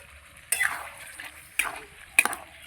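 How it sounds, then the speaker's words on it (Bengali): Goat mutton with beaten sour yogurt gets stirred in a frying pan: three distinct scraping strokes, close and fairly loud, over a quiet sizzle. "ভালো করে নেড়ে চেড়ে নেব।"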